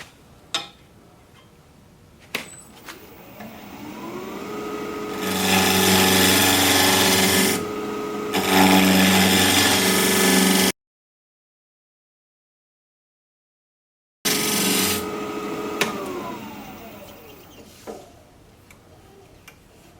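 On a wood lathe turning a spindle with a square scraper, the motor spins up with a rising whine, then steady loud scraping and cutting noise, a few pauses, a gap of silence, and another spin-up and wind-down.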